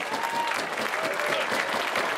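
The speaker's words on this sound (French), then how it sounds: "je vous demanderai d'applaudir très très chaleureusement le team Emirates, meilleure équipe de ce Tour de Romandie" Spectators applaud team Emirates, named best team, at the final-stage podium ceremony of the 2018 Tour de Romandie cycling race; sustained crowd clapping, moderately loud and even, with faint voices mixed in.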